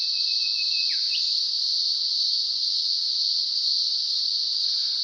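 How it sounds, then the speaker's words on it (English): Cicadas in a steamy, hot subtropical rainforest in the Blue Mountains keep up a loud, continuous high buzzing drone for the whole stretch, with one brief sliding chirp near the start and no talking. "And all you can hear are cicadas"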